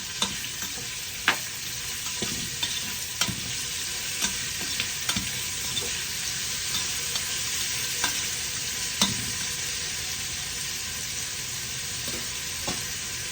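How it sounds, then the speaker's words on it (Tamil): Onions frying in oil with a pinch of salt for tomato rice, a steady close sizzle broken by sharp spoon clinks against the pan at irregular intervals. "வெங்காயம் வதங்கட்டும்"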